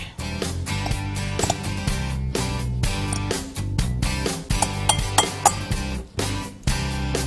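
A utensil clinks and scrapes repeatedly against a bowl while meatball mixture with onion and garlic is stirred together. Irregular, close knocks sit over a continuous tonal background.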